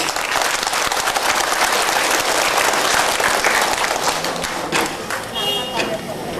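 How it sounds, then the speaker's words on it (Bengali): Steady applause from the audience at a disability organisations' gathering in Natore, sustained clapping throughout with a few louder claps standing out near the end. "আমার মনে হয় তাকে একটা জোরে করে করতালি দেওয়া উচিত।"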